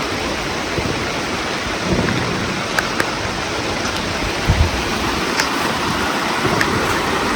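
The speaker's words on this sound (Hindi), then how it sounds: "और ये बारिश हो रही है" Steady broadband hiss of rain falling, continuous and moderately loud, with a few faint knocks and thumps scattered through it, at a goat stock farm.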